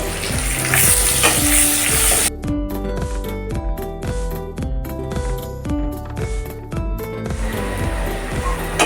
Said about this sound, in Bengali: আমাদের এখানে পেঁয়াজটা ভালো করে ভাজা ভাজা হয়ে গেছে